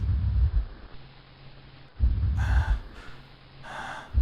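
A character in Doki Doki Literature Club breathes heavily. Loud, rhythmic breaths rasp in and out at close range, alternating deep exhales with sharper gasping inhales, with no speech.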